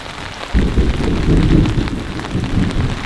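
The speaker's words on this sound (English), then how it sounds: "it sounds like another thunderstorm is approaching. The thunder's picking up" A thunderstorm at a campsite brings steady moderate rain, and a deep rumble of thunder rolls in after half a second and lingers under the constant patter.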